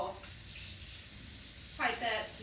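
A kitchen tap runs water to rinse a small pipette used in mixing a homemade potion, a steady hiss of flow that swells into a louder splashing burst near the end.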